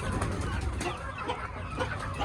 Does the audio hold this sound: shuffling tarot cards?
no